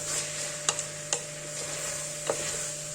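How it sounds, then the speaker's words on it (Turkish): Potatoes being sautéed in a pan give a soft, steady sizzle, broken by a few sharp clacks of the utensil against the pan as they are stirred quickly. "Şöyle hızlıca karıştırıyorum. Yaklaşık 5 dakika patatesi kavuruyorum."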